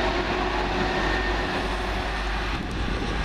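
A Class 323 electric train rumbles steadily past at close range as it runs into a head shunt after terminating, a continuous broadband roar with a low hum throughout.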